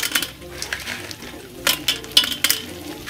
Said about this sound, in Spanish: Vamos a agregar un poquito de almejas.